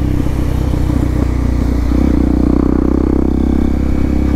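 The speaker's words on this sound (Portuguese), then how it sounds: "Esse bagulho de pipoco vicia e gasta uma gasolina da porra, mano." A Honda XRE 300 motorcycle with an aftermarket exhaust idles loud and close, with a deep steady engine drone and a faint rattle as the revs rise and fall. Nobody speaks.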